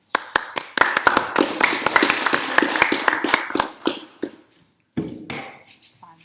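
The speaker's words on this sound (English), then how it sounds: "Hold on, we'll clap for you now." Audience applause at a school debate, a quick burst of claps from a small crowd that thins out to a few scattered claps, then pauses before one last short flurry.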